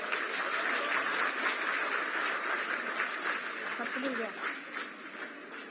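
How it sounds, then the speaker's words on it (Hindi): Audience applause at a government ceremony where the chief minister hands appointment letters to community health officers, a broad steady clapping that thins toward the end, with a brief voice rising beneath it. "तालियां जोरदार हो।"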